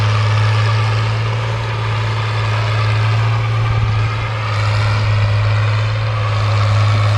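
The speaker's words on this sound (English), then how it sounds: "Big one tractor moving. Tractor moving." A Fiat 1000DT tractor engine pulls through deep plowing, a loud, steady low diesel drone with a strong fixed hum, holding close and constant with only slight swells and no talk.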